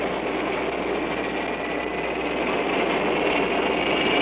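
A Lockheed Electra turboprop's number 4 engine starting up, a steady loud broadband roar with a faint high whine, holding constant and rising slightly toward the end, with no voices.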